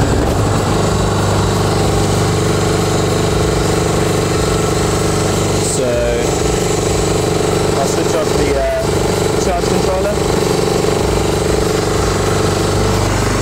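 A 6.5 hp Honda clone engine driving a 12 V alternator generator runs steadily at idle, a loud continuous engine drone with a few brief clanks and knocks partway through.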